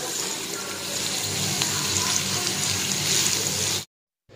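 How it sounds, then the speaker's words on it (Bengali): Chopped onions frying in a pan for goat tripe bhuna, a close, even hiss and crackle that holds steady for a few seconds and then cuts off abruptly. "এখন সেই পেঁয়াজ কুচি দিয়ে দিব। পেঁয়াজগুলোকে হালকা সফট হওয়া পর্যন্ত ভাজবো।"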